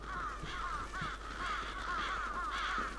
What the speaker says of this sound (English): I believe there were no enemies at this point, just crows.